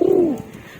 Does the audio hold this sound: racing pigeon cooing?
yes